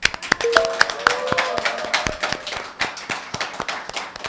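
A studio audience claps at the opening of a Korean current-affairs talk show, with sharp, scattered hand claps ringing out close by, a few louder individual claps standing out, and a brief tonal sound underneath early on.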